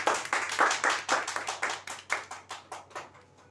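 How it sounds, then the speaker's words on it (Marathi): Applause for the final winner of a bumper prize draw at a Shree Ganesh Marketing card lottery event: a crowd claps in brisk, rhythmic bursts, fairly close and clear, gradually thinning out toward the end with no talking. "वाजा टाळ्या जोरदार"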